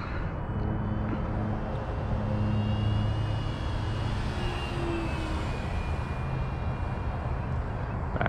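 FMS F4U Corsair or F7F Tigercat RC model warbird, 1700mm, droning steadily overhead with a continuous engine whine that holds near-constant loudness, shifting slightly in pitch as it passes, with no talking.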